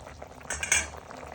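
A spoon stirs aloo mutter curry in a cooking pan, giving a short scrape and clink of metal over a soft bubbling simmer, close and brief.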